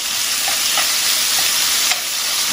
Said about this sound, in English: I got my steak pieces in.